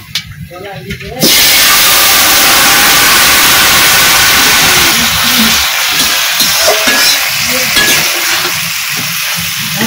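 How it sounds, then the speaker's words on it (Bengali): Papaya curry vegetables are poured into hot oil spiced with dried red chillies and whole cumin, setting off a sudden, loud, close sizzle that holds steady and hissing for several seconds, easing slightly toward the end as a voice murmurs faintly. "এখন আমি তরকারি ঢেলে দেবো"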